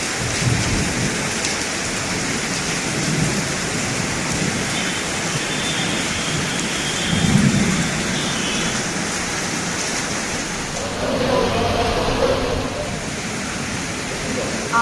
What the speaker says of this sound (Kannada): ಸಿಲಿಕಾನ್ ಸಿಟಿಯಲ್ಲಿ ಗುಡುಗು ಸಹಿತ ಧಾರಾಕಾರ ಮಳೆ.